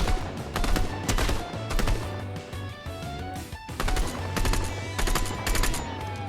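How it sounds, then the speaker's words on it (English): Bursts of automatic gunfire from a Fortnite match crack out in several rapid volleys with brief pauses between, sharp and fairly close, and nobody talks over it. "I very surprisingly hit a few shots on them"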